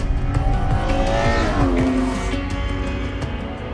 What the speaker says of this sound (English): Beneath me is Ferrari's V12 Purosangue.